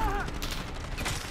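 Gunfire in the video game Call of Duty: Modern Warfare, a short burst of shots mixed under game noise and a voice, fairly quiet throughout.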